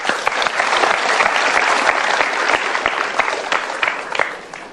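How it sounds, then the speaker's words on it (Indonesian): A seated audience at a motivational seminar gives a round of applause: thick, rapid clapping fills the room steadily, then thins and fades out toward the end, with no voices over it. "Kita berikan tepuk tangan."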